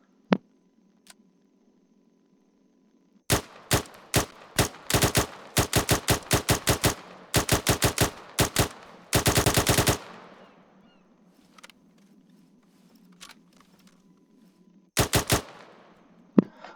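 Bursts of L22 carbine gunfire in the Arma 3 video game crack out loudly, with quick single shots, rapid strings and one sustained automatic burst, then a short final volley after a pause.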